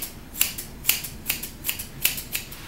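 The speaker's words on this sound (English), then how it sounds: "Take your scissors" Scissors trimming the ear fur of a cocker spaniel during grooming, with a steady run of about eight crisp, close snips at an even rhythm and no talking.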